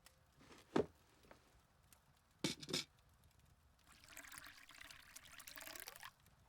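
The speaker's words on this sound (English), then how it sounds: "This blend you've poured is cinnamon." Cinnamon tea being poured at a tea party, a soft liquid stream rising from about 4 to 6 seconds after a couple of brief clinks of glass or china, faint and close with no talk.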